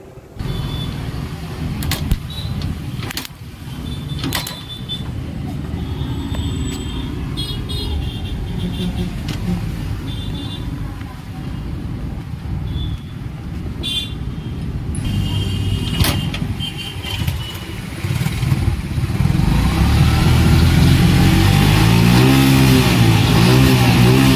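A Yamaha Crux motorcycle, fitted with a different ignition coil, catches and keeps running. Its low engine note holds steady close by and swells louder toward the end, with a few sharp clicks early on.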